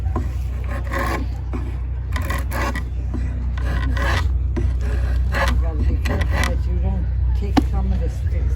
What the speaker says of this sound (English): And then take your draw knife.